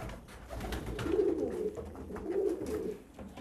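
Pigeons coo steadily in a busy pigeon farm coop, their low soft calls overlapping in a continuous warbling murmur close by.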